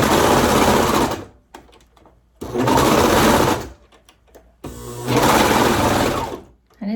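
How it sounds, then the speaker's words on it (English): A serger stitches through thick, layered fabric with a loud rattling whir in three bursts, each running one to two seconds, separated by brief quiet pauses. "And it's making my serger rattle."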